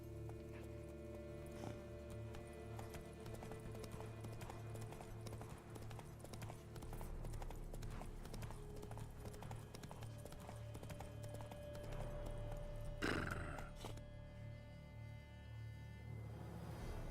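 Roach the horse gallops with steady rhythmic hoof clip-clops in The Witcher 3: Blood and Wine, continuous and mid-distance under game ambience, with a brief louder burst of noise near the end.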